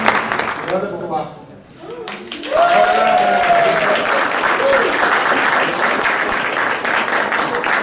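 At a business growth class, a short voice gives way to a full round of applause, loud dense clapping from the room that swells and continues steadily under brief speech.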